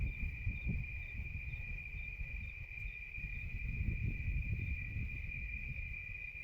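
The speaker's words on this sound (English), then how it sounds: "you hear crickets" Crickets chirp in a steady, high, unbroken trill at night, faint and distant over a soft low rumble.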